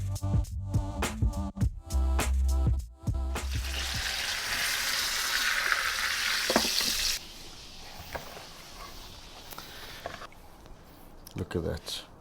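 A bone-in prime rib roast searing in a pizza oven, a broad hiss and sizzle rising after a thud and rustling, steady for several seconds, then fading, with someone talking at times.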